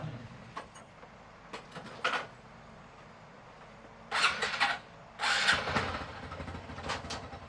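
A motorcycle engine starting: short cranking bursts and brief revving surges, the loudest two in the second half, separated by quieter idling stretches, fairly close.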